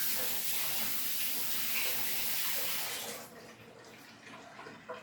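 Tap water runs steadily over a hard boiled egg held under a faucet, a broad close splashing rush that drops to quieter trickles near the end.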